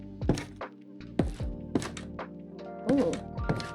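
Minecraft crimson and cherry wood doors open and shut in-game, giving a quick run of hollow wooden thunks and knocks. Roughly six distinct hits arrive close and clear.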